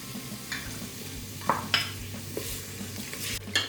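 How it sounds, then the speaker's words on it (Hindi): Beef frying on medium heat with ginger garlic paste for a spicy beef biryani, a steady close sizzle broken by a few sharp scrapes and clinks of a spoon stirring against the pot. "जिंजर गार्लिक पेस्ट ऐड कर रही हूँ और साथ ही गोश्त। आंच दरमियानी करके इसे भूनूंगी।"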